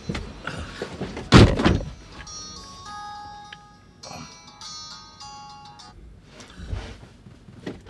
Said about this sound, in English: Who is this caller that has been calling you and you have bluntly refused to pick?